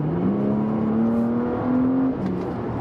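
Porsche Panamera 4S E-Hybrid accelerating at full throttle in sport mode, a steady engine tone climbing in pitch from inside the cabin, loud and continuous, before easing off near the end.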